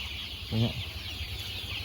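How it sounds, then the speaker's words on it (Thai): A single short cluck from a month-old Sam Sai crossbreed chicken rises briefly over a steady background hiss, close by, with no other calls. "ให้ดูบรรยากาศไก่หนึ่งเดือน กับสี่ห้าวันนี่ครับ"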